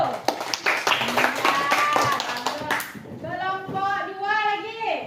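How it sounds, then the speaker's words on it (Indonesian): Young schoolchildren in a first-grade classroom clap for a group, a brief burst of scattered claps over the first few seconds mixed with voices, followed by a sustained sung or chanted voice. "Beri tepuk tangan kepada kelompok 1."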